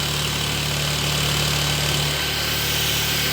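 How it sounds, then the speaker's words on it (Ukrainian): A Peugeot alternator spins on a bench test, giving a steady, loud mechanical whir with a constant electrical hum underneath, running unbroken throughout with no voices. "я от зараз крутю генератор"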